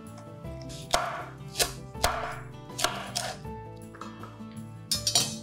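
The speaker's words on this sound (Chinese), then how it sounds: "紫甘蓝一样呢，把它切碎。" A knife chops red cabbage on a cutting board for homemade rainbow pan mee noodles, sharp thuds landing in an uneven rhythm about once a second, close and clear with no talking.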